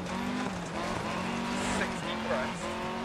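Lancia Fulvia rally car in DiRT Rally, its engine held at high revs with a steady droning harmonic tone, while a co-driver's voice reads pace notes over it throughout.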